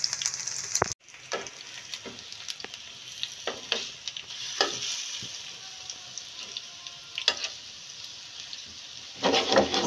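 Chicken pieces for a steam roast fry under a lid in a pan, giving a steady soft sizzle with scattered crackles and pops and a brief clatter near the start, with no talking.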